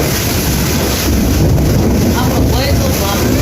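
A steady, loud roar of heavy rain and gusting wind fills the whole stretch, constant and unbroken, with no clear voices.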